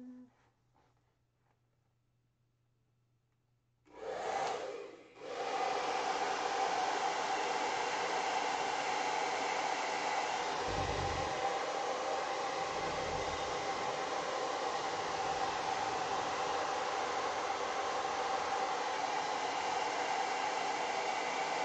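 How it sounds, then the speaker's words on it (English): After a quiet hum, a hair dryer switches on and blows with a steady, loud rushing whir that continues unbroken to the end. "it's going to get loud here for a second just because of the hairdryer"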